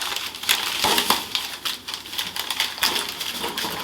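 Farm-fresh pork tenderloin being wrapped and folded in paper, a close, busy crinkling and rustling with sharp irregular crackles as the sheet is pulled and creased, without speech.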